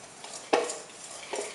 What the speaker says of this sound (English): we're just going to whisk this for about 2 minutes or until it's stirred up very nicely